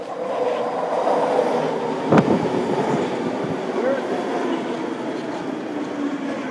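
Inside a moving free public transit train, wheels rumble and clatter steadily along the rails, with a sharp knock around two seconds in and a faint squeal, at a constant moderate level.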